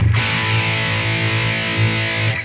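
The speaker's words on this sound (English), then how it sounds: "This is the dual rectifier, so the really heavy Mezza Boogie kind of style sounds I want to do" A heavily distorted electric guitar through a Line 6 DT25 112 tube combo on a dual rectifier setting rings out in a thick, saturated sustained chord with deep low end, loud and close.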